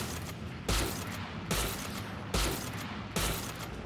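Four loud, evenly spaced rifle shots from an unscoped Marshal in Valorant, each a sharp crack with a short decaying tail, roughly 0.8 seconds apart, with no talk.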